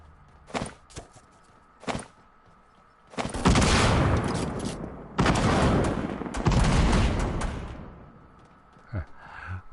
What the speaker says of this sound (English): Who the heck was he shooting at?